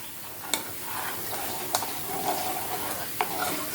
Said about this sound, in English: I'm going to take a nice spoon and just stir this up.